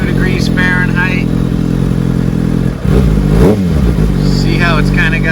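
Idling Kawasaki Ninja ZX6R engine (2019-2021 model) with an uneven, hesitating idle, a steady close-up mechanical drone with a brief dip partway through while a person talks over it.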